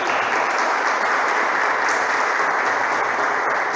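Sustained applause from a church congregation fills the space, a dense, steady wash of many hands clapping at an even level, without any voices.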